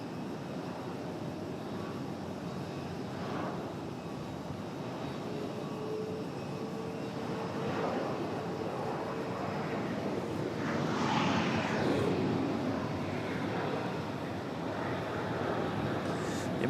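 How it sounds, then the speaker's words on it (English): An American Airlines Boeing 777 with Rolls-Royce Trent 800 engines at Raleigh-Durham airport gives a continuous jet-engine roar that swells gradually and stays steady and fairly loud throughout. "Let's see how this new microphone sounds against the Trent 800s."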